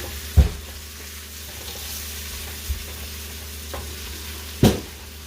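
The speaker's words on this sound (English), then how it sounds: "I'm gonna stir the pot now. Turn the meat on the other side." A steady low sizzle of oxtail frying in a pot for Jamaican-style oxtail, with a few sharp scraping knocks from stirring.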